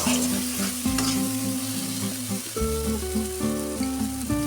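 Spice masala for a tilapia curry frying in oil, a steady close sizzle with stirring throughout, while strong tonal music plays loudly over it.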